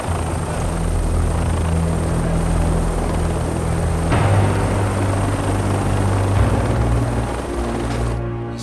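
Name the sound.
helicopter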